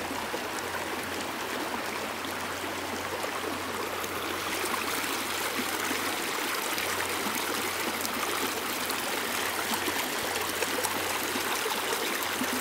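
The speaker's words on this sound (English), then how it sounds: "And we got a nice running river." A mountain river rushes past along a hiking trail with snow nearby, a steady broadband wash of flowing water, close and continuous with no voices.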